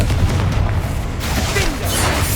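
Confringo fire spell blast in Hogwarts Legacy, a loud continuous booming burst with low rumble filling the whole moment amid game action.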